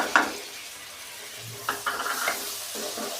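Chopped tomato sizzles in hot oil in a pan of methi aloo sabzi on full heat, with a spoon scraping and stirring in soft intermittent strokes close by.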